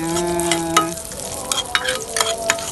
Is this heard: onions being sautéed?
yes